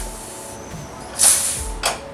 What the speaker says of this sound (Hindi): अब गैस ऑफ कर देंगे और कुकर में से प्रेशर खत्म होने देंगे।